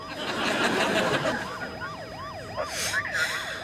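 A police car siren wails in a rapid rising and falling pattern, fairly loud and distinct, over a noisy hiss of background sound, with no one talking.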